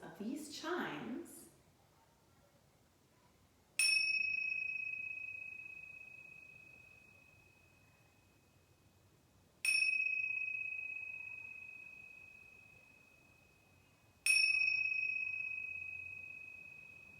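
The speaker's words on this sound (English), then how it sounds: "Now bring your awareness to the sounds of these chimes." Chimes ring out three times at a kids yoga class, each a bright, clear strike that rings on and fades slowly in an otherwise quiet room.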